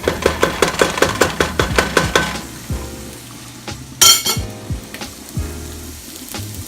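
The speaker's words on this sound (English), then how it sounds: "So here's the chickpeas up close, and I'm just stirring this around a bit" Chickpeas stirred in a pot with a utensil, a run of quick rhythmic scrapes and clinks up close, then slower scattered scrapes with a sharp metallic clatter partway through and sizzling underneath.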